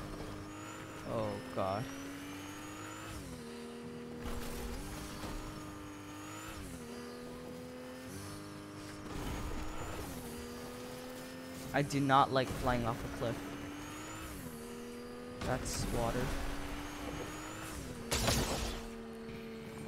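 Car engine in the Fortnite video game, droning and shifting pitch as it drives and revs, with brief crashes and tire noise, heard under near-constant talking.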